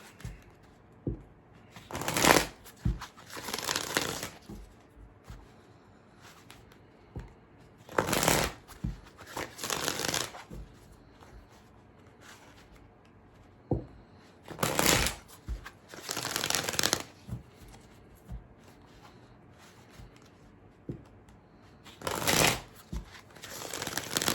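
Oracle cards from the Archangel Oracle deck are shuffled by hand in repeated bursts of brisk riffling and flicking, several seconds each, with quiet gaps and small taps between them, close and moderately loud.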